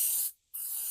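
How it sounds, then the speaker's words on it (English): Rust-Oleum bed liner is sprayed from an aerosol can onto a truck bed in two close, hissing bursts separated by a brief pause. "before I get and spray that bed liner on it"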